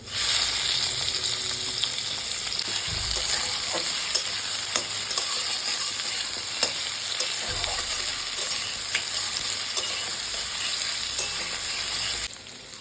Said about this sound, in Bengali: এখন আমি ঝিঙেটা ভেজে নিচ্ছি।